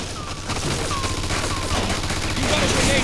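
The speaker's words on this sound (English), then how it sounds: "Looks like we found the machine gun." Machine gun fire in the video game Mafia 2, a loud sustained burst of rapid gunfire running through the whole stretch, with game noise layered underneath.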